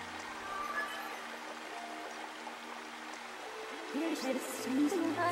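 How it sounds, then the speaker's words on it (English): Water splashes steadily from a small waterfall in The Legend of Zelda: Skyward Sword, a soft continuous rush under game tones, with a low voice talking toward the end. "The only place that has actual sacred water is in this little waterfall."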